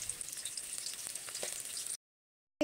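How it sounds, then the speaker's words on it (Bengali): Chopped onions fry in oil in a pan for baby chira pulao, giving a steady soft sizzle close up that cuts off abruptly. "পেঁয়াজ কুচিটা দেওয়ার পরে এবার হালকা একটু ভেজে নিব।"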